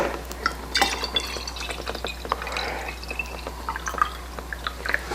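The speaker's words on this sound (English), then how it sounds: "So I've got some distilled water. I'm just going to add it to this, cool it down a little bit." Distilled water pours into a container, making a steady, splashy trickle with scattered drips and small glassy clinks. The sound is close and moderately loud, with no talking.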